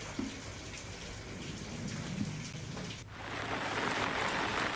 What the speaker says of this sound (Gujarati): જિલ્લામાં વહેલી સવારથી ઝરમર વરસાદ રહ્યો